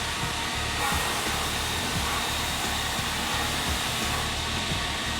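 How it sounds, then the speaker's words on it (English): An automated cutting machine in a bike factory trims carbon road bike frame tubes to length, giving a loud, continuous whirring roar that holds steady throughout, with no voices heard. "So this is an automated cutting machine that takes each tube, you load it in, and it cuts it specifically to the dimension it needs to be"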